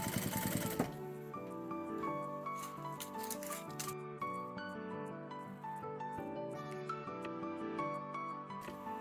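A sewing machine stitches a polar fleece seam, running back and forth over the same line in a steady, continuous mechanical whir that stays close and fairly loud throughout, with no talk over it.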